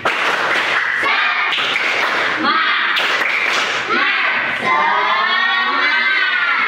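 Schoolchildren in a math class doing a rhythmic Indonesian clapping chant, voices shouting together over patterned claps and thumps, loud and close, ending in a long sung call.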